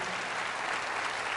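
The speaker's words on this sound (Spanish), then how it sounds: "Fuertes aplausos, Jesús." A church congregation breaks into dense, steady applause, a loud continuous wash of clapping heard without any voices.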